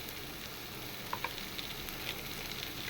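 Ingredients sauté in a pan while goat liver curry is being cooked, a faint, even sizzle with a few small pops and ticks from stirring, and no talk.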